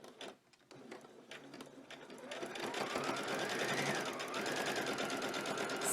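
A sewing machine seams the neckband of a knit summer dress, first with a few brief starts and then a fast, steady mechanical stitching chatter that runs close and clear to the end.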